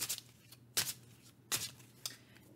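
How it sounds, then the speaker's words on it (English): Tarot cards are shuffled by hand in four short, crisp riffles at a close, even pace, with quiet gaps between them. "Think about that while I shuffle for the third time."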